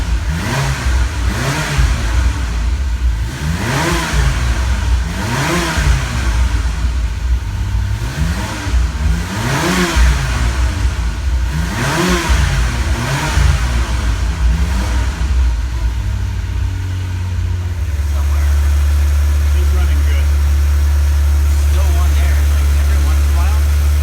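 A 1997 Ferrari F355 Spider engine with Motronic 5.2, running out of the car, revs repeatedly in rhythmic rises and falls, then settles into a steady idle; talk is audible alongside.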